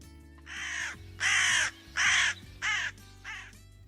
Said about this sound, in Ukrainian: а тепер послухаймо, як каркає ворона